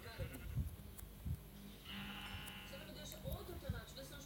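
Sheep bleating in the Minecraft video game, several short bleats spread across the moment amid game sounds, with a voice talking in the background.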